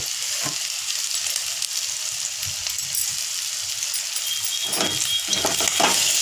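Coarsely pounded ginger and garlic frying in a pan as it is stirred, giving a continuous bright sizzle broken by a few scraping strokes and soft clinks, close up and alone.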